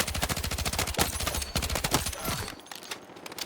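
Rapid automatic fire from the SGX compact pocket submachine gun in the video game Battlefield 6: dense, loud bursts of sharp cracks for about two and a half seconds, then tapering off into quieter trailing shots.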